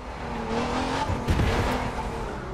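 In the racing game The Crew 2, a road car slides on a dirt track with tires failing to grip, its engine roaring steadily while a skidding squeal swells in the middle before easing.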